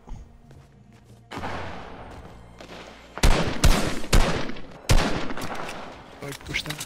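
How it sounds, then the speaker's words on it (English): Gunfire crackles in a squad-based shooter game: a burst of rapid shots, then loud, close, sharp cracks in quick clusters with ringing tails, and further pops near the end. Players talk briefly underneath. "You're getting shot at."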